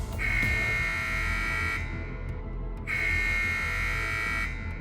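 A lab alarm blares as a loud electronic buzzing tone, sounding in two long pulses separated by a brief pause over a dense steady hum.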